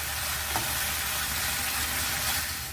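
Spice paste with chili powder, salt and turmeric is sautéed in a pan for a Bengali banana blossom curry, producing a loud, dense, continuous sizzle with faint stirring scrapes, close and steady throughout.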